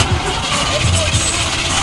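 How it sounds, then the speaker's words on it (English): A carbureted Chevy car engine cranks at a car show, a short loud rough churning close by with people's voices mixed in. "Can you depend on your Chevy? Well, you know what? It better start."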